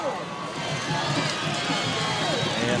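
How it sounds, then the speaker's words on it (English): A high school football crowd cheers for Midland Valley in the fourth quarter, a broad roar of voices from the stands, steady and fairly distant, with a commentator talking over it. "the Midland Valley crowd is letting their team hear it right now"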